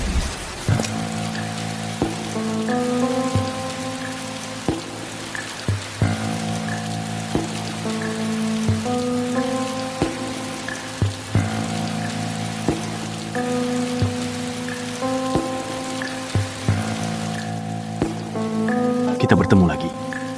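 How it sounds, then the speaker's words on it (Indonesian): Steady rain falls in a soft, even patter that carries on beneath a gentle musical score. "Hujan turun."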